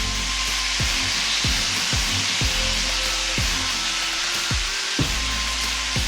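A barbecue-sauced Iowa pork chop sizzles steadily in a hot pan after being flipped, a constant loud hiss of frying with repeated soft scraping and tapping knocks of a utensil, no talking.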